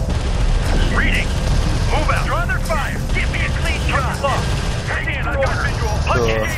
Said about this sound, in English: Railgun is taking effective fire.